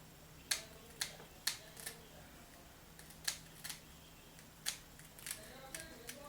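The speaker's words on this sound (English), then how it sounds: "now we're just going to go ahead and cut the lace off" Scissors snip through the lace edge of a 4x4 body wave closure wig, a dozen or so sharp clicks in irregular, close bursts against a quiet room.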